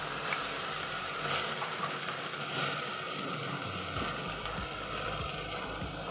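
Ginger, garlic and cumin frying in oil for chana dal, a continuous close sizzle and crackle at an even level throughout, with faint scattered pops and no talk.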